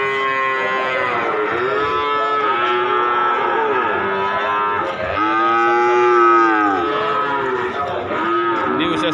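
Cattle at the Paing calf market in Pati, Central Java, moo in long, loud, overlapping calls that go on without a break. Several animals sound nearby, and no voices cut through.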